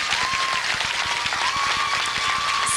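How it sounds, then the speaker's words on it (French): Steady, dense applause from a studio audience at the 2007 finale of a home-renovation TV competition, continuous clapping filling the whole stretch at an even level without pauses. "on peut applaudir."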